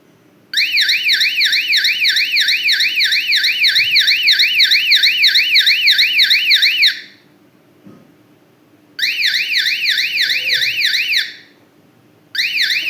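Arduino water overflow detector buzzer sounding a loud, warbling electronic alarm tone in a long burst of about six seconds, then two more bursts after a short pause, with faint room noise between them.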